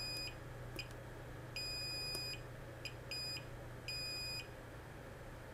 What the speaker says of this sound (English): we're gonna set our multimeter to diode test mode